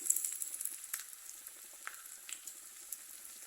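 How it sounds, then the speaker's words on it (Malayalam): Onions and a couple of dried red chillies frying in oil for a sambar tempering, giving a faint, steady crackle with scattered soft pops and no voices. "കുറച്ച് ഉള്ളി ഇട്ട് കൊടുക്കാം. രണ്ടൊന്ന് വറ്റൽമുളക് ഇടാം."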